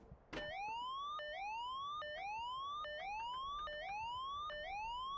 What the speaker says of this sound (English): Oh my gosh, this alarm is so loud. Why did they make that alarm so loud? Oh, the low RPM.